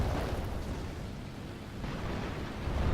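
Heavy 1,000-pound bombs dropped from a Typhoon fighter-bomber detonate near tanks in War Thunder, a dense, sustained rumbling roar of blasts that rolls on steadily with no talking.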